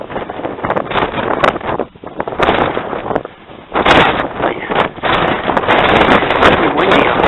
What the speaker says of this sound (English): Very windy up there.